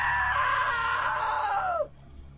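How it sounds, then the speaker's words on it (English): A long, loud, sustained scream from a character in the video game What Remains of Edith Finch, holding steady before bending downward and cutting off abruptly. "Now that was a great scream."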